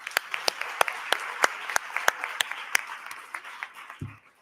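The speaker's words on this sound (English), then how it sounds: "Let's give a big round of applause." A big round of applause at a youth forum: a scattered crowd claps in sharp, uneven bursts that thin out over a few seconds, with a brief low thump near the end.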